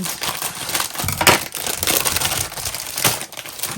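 A plastic craft package being cut open, close and continuous crinkling and crunching with sharper snips and pops scattered throughout, no voices.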